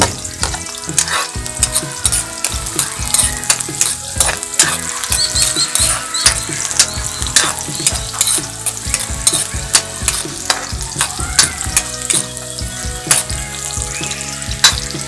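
Garlic fries loudly in a pan for a kangkong and tofu stir-fry in oyster sauce, with a constant close sizzle broken by repeated clatters of stirring against the pan and no talk.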